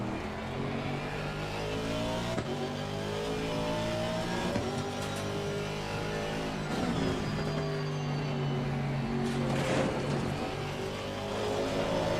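Aston Martin V8 race car engine in the Assetto Corsa Competizione racing game at Kyalami, revving steadily with shifting pitch through gear changes and corners during a lap, continuous and close.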